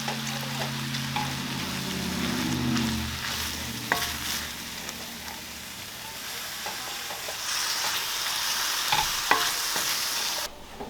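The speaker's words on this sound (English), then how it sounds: "Stir that all up, and then we'll slowly add in a half cup" Flour and beef broth stirred in a pan, a steady scraping and sizzling that runs continuously for the whole stretch with a few sharp clicks of the utensil, fairly close and without any talk.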